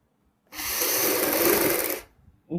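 A sewing machine runs in one loud, steady burst of about a second and a half while stitching the outer side of a V-neck garment, then stops abruptly and briefly restarts.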